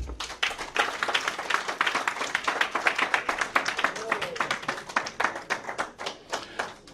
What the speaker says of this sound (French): Chers parents, acclamons-les.